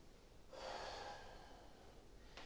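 A single deep inhale through the nose during a Pilates exercise, a close, airy breath lasting about a second and a half, followed by a brief faint exhale-like rustle.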